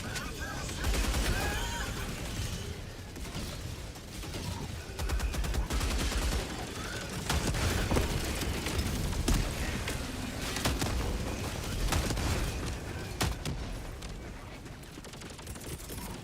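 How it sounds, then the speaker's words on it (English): Mortar shells and explosions pound almost without pause in Helldivers 2, a dense, loud barrage of booms and crackling blasts that fills the whole stretch, with voices faintly under the roar. "My mortars killed me."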